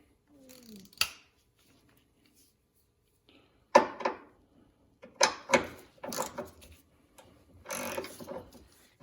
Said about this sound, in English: I'm gonna run it down with just a regular ratchet till it gets snug